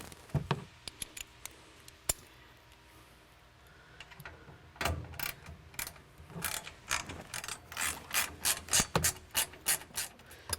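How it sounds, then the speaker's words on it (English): Screws are tightened down on a rear window MOLLE bracket inside a Ford Bronco 2-door, sparse clicks giving way to a quick run of rhythmic ratcheting turns, close and fairly quiet. "I'm going to go ahead and tighten these all the way down."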